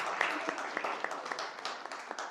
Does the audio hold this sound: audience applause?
yes